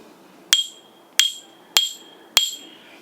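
A vintage Winchester metal piece is struck four times at an even pace, each sharp hit leaving a bright, clear ring that fades quickly, close up and with no voices.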